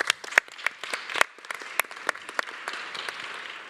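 Audience applause, a steady patter of many hands clapping at close range, with sharp individual claps standing out throughout.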